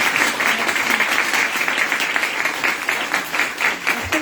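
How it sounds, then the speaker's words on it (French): Audience at a lecture on healing applauds a guest speaker, a steady wash of clapping filling the whole stretch at an even, moderately loud level with no voices on top. "On l'applaudit."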